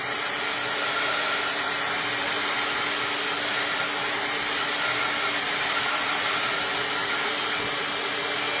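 A handheld dryer blows steadily on a greyboard stamp craft project, a continuous even hiss and whoosh close by with no pauses and no talk.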